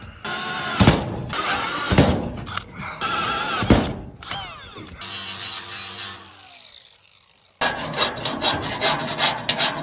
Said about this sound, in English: we had to do a bunch of file work to true them up